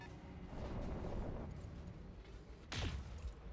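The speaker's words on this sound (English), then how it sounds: "That sounds like a rotary autocannon too?" Rotary autocannon fire in BattleTech rattles as a quiet, rapid rolling barrage, followed by a single louder impact with a falling whine near the end.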